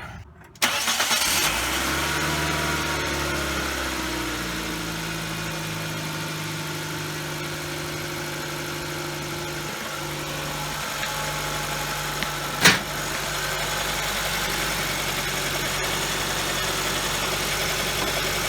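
A 2006 Nissan Sentra engine cranks and catches after an A/C belt change, then settles into a steady, close idle with a single brief knock partway through.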